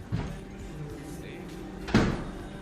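A door fitted with central locking and a fingerprint reader swings shut, giving a single firm thump with a rattle near the end, after a softer knock at the start, heard close up with no talk.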